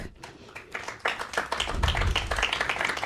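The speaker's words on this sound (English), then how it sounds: "Please let us give another round of applause to Mr. Job Clark" Audience at an artists' residency launch celebration claps for a guest, starting with a few scattered hand claps that quickly swell into louder, fuller applause.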